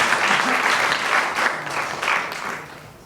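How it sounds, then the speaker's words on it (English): Audience applause at an art and media festival talk, steady dense clapping from a crowd in a hall, fading toward the end. "a bit of applause would be"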